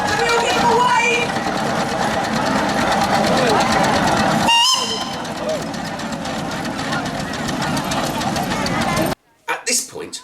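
A steam engine runs around the arena at a village fair, a steady loud mechanical chugging and clatter with crowd noise and a voice talking over it, then a brief gap before a few quieter knocks at the end.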